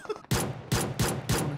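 Gunfire in a zombie video game comes as four loud, heavy shots in quick succession, each a sharp blast with a short decaying tail.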